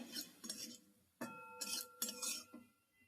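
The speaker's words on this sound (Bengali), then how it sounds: "আবার ভালো করে নেড়ে নিচ্ছি" A metal spoon scrapes and clinks against a pan while stirring a cabbage filling, giving a few close, bright taps and scrapes in short bursts with pauses between.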